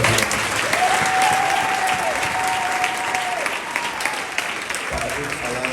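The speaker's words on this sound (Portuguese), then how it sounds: "Aplaude Jesus pela vida." Congregation applauding in church, a sustained full round of clapping from many people with a faint voice calling out underneath.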